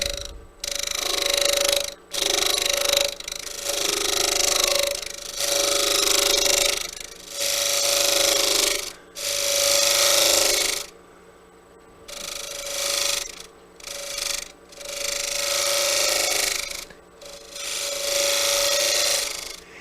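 Lathe tool taking very light cuts on turned wood mounted on a faceplate, a steady close scraping rasp in repeated strokes of a second or two, separated by brief pauses.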